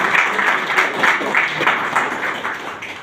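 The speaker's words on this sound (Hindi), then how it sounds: "मैं चाहूंगा दोनों को एक बार जोरदार तालियां मिस्टर।" Applause from an audience at a network-marketing meeting, honoring two people who achieved a Thailand trip offer, with rhythmic clapping that pulses steadily for about three seconds at a moderate, fairly close level, no talking over it.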